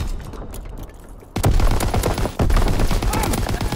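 Bursts of rapid gunfire in a Call of Duty WWII match, aimed at infantry near a tank, start abruptly after a quieter opening and keep up as dense, loud volleys with sharp individual shots.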